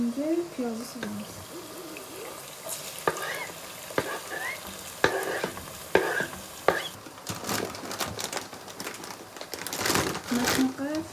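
Onion goes into a hot pan of cooked chicken breast and fries, giving a soft sizzle broken by sharp scraping and stirring clicks from a utensil, with a voice sounding faintly in the background.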